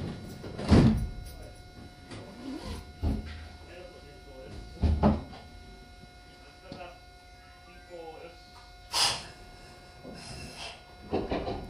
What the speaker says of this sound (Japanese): ドアを閉めます。